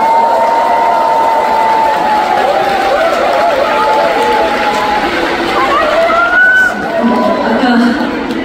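A concert audience claps and cheers loudly after a song, a dense, continuous roar of applause and shouting with voices rising through it.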